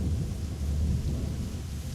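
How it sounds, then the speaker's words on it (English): Approaching thunderstorm, a continuous low rumble of distant thunder with rain hiss beneath, steady and moderately loud throughout, no speech. "The storm is coming."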